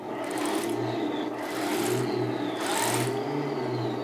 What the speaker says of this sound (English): how is the engine sound?